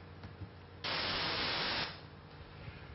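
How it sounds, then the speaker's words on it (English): A burst of steady, even hiss like white noise starts abruptly, holds loud for about a second, then cuts off, leaving a faint background. "this is what white noise sounds like."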